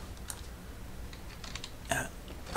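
Quiet, irregular clicks of typing on a computer keyboard at a newly built desktop PC, a few scattered keystrokes with a brief cluster of louder taps near the end.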